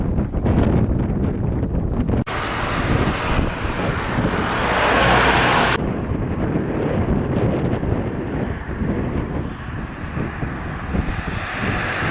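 Strong wind buffets the microphone while cycling on a road in the New Forest, a loud, continuous roaring rush with a harsher burst in the middle and faint passing traffic beneath.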